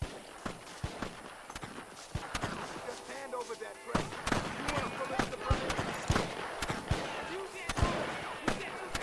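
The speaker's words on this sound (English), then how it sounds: "Bro, who the hell is shooting?" Scattered gunshots in Red Dead Redemption: several sharp, fairly distant cracks at irregular intervals, mixed with hoofbeats and people talking throughout.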